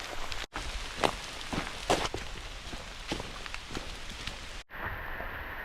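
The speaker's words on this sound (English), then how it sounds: "It's raining." Rain falls steadily during a thunderstorm on the Pine Mountain Trail, a dense close hiss with scattered heavier drops and footstep-like thuds, briefly cut by two gaps.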